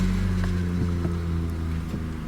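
A 1998 Honda Accord with a swapped manual transmission and about 228,000 miles runs at a steady idle, a loud, even low hum with faint ticks on top and no other sound.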